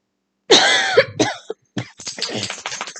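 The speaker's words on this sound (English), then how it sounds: "Had to take a quick break to cough." A person coughs, one hard cough followed by a few rougher, throaty coughs and throat clearing in quick uneven bursts, close and loud with no other sound.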